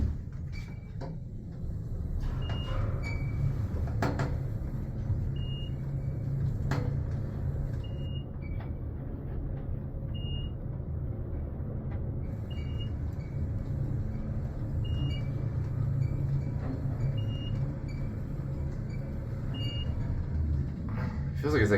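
Armor traction elevator in a library at Hofstra University riding upward, a steady low rumbling hum for about twenty seconds punctuated by short repeated beeps and a few clunks, with people talking quietly.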